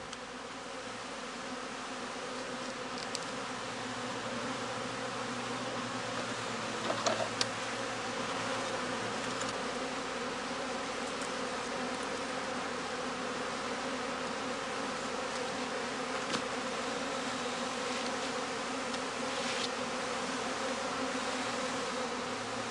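A honeybee colony buzzing inside a skep, a steady, fairly faint hum that holds evenly throughout with no voices.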